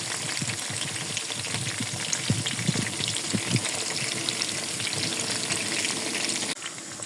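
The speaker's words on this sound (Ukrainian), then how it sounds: "І зараз обсмажуємо м'ясце. До м'яса додали цибульку." Pork pieces and onion sizzle steadily in hot fat on a sadzh pan for Georgian ojakhuri, a continuous crackling fry with a few soft stirring knocks near the middle and a slight drop in level at the end, no voices.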